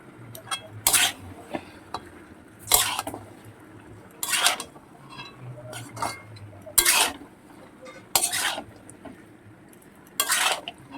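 Chopped tomatoes stirred into mutton in a pot for a rezala-style curry, a spoon scraping and clinking against the metal in regular bursts every second or two over a low background hum.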